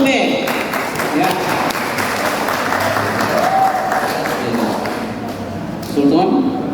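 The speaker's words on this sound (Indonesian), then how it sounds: "Berikan aplaus untuk P" Steady applause from the audience at the men's final of a Quran knowledge quiz competition (MTQ, Kutai Kartanegara), filling the hall for several seconds with a brief swell near the end, while a host talks over it.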